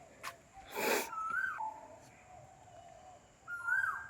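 An Asian koel calls faintly outdoors after a storm, several rising whistled notes spaced over a few seconds with a short rustle early on.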